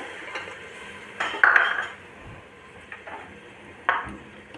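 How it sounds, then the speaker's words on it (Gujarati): Washed peas tipped into a metal cooking pot while making khari bhat, giving a clattering rattle and scrape of metal utensils, a brief bright jangle, then a second short clank, close and moderately loud. "વટાણા ઉમેરી દઈએ"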